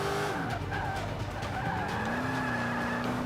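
Range Rover in Forza 5 skidding sideways through a turn on the Indy GP circuit, engine droning steadily while tires squeal in long wavering tones, with no talk over it.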